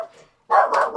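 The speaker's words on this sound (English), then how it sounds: "There's the dog." A small guard dog barks close by in a quick burst that sharpens partway through, after a brief quiet stretch of low murmur.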